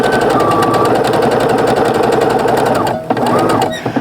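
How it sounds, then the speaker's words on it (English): A sewing machine stitches a seam on a small quilted Valentine's mug rug, its needle hammering in a steady, rapid rhythm close up, briefly pausing and restarting near the end. "Then I'm just going to go ahead and start sewing."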